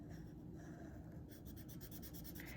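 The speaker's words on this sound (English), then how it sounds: "Could start switching over to your thicker Sharpie." A thick Sharpie marker strokes across drawing paper in a sketchbook, a close, steady squeaky rubbing that turns into quick repeated back-and-forth strokes, alone and quiet.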